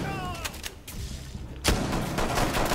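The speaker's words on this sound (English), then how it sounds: "On my screen, you're shooting Mike, not even on him." Gunfire in Rainbow Six Siege, with sharp shots scattered across the clip and a heavier burst near the end, all heard under tense game chatter.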